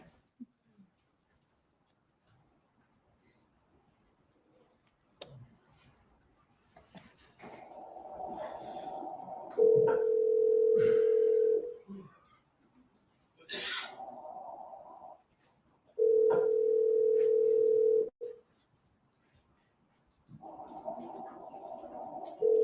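A recorded telephone call is played back in a courtroom during a murder trial, with three steady ringback tones separated by hissy gaps before the line reaches voicemail.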